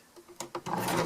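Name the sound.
sewing machine stitching a pack cover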